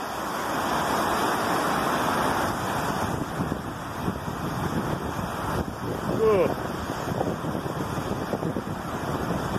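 Gale-force wind from Storm Eunice roars steadily across a riverside in Sheffield amid heavy rain, a dense, buffeting rush that swells and eases over about ten seconds, close to the microphone.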